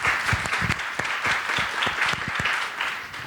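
Audience applause welcoming the chairperson at a security forum session, a brisk burst of clapping from a seated crowd that carries on through the whole span at an even level.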